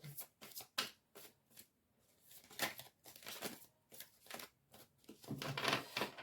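Tarot cards are shuffled and drawn by hand, close and fairly soft, with a string of short papery riffles and slaps, a brief pause, then a denser flurry of shuffling near the end.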